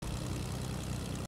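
A propeller airplane in the Fortnite video game drones past with a steady, loud engine roar that holds evenly throughout and cuts off abruptly at the end.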